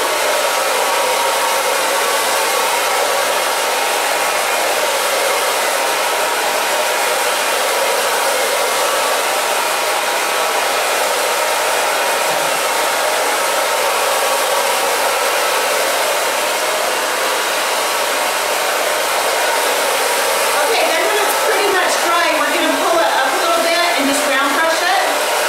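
A hair dryer blows hair dry, a loud, steady close-up whoosh running unbroken throughout, with a brief hand-handling rustle near the end.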